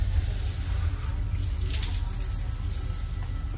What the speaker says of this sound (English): Somebody, that shower is nice.